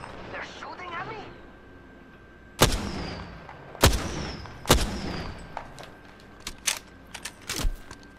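Enemy gunfire in the Apex Legends game: three loud separate shots a second apart, then a quicker run of smaller pops, with a voice talking briefly before the shooting.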